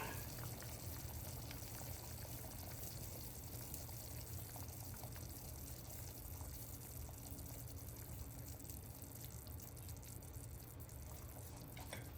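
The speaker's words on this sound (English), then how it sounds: "Okay, it's boiling. I'm going to turn that down to a nice low simmer." Steady low bubbling and rumbling of water boiling in a pot, a continuous churning hiss with no talking.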